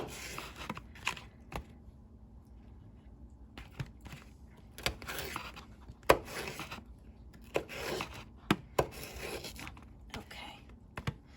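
Irregular knife taps and scraping on a cutting board, quiet and close, with occasional sharper chops in an uneven rhythm.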